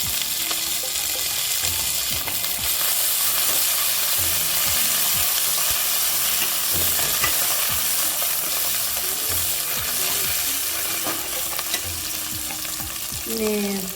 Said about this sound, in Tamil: இந்த அளவுக்கு நல்லா வதங்கிக்கணும் வெங்காயம்.